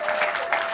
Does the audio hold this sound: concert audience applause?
yes